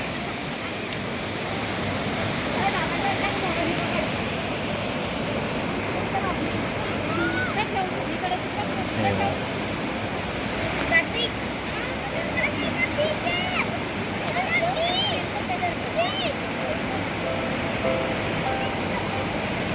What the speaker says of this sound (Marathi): पूर्ण पाण्याचा खलखलाट आवाज आहे पाणी बघा आणि हा पाणी पूर्ण खाली जातो